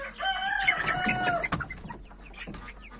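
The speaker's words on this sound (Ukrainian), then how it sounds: "Тут у нас курчатка амброксика і білефельдера." Chickens cluck and chirp close by, a cluster of calls at first followed by scattered softer clucks. Young Amrox and Bielefelder chicks.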